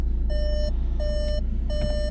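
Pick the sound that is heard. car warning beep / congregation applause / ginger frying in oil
car warning beep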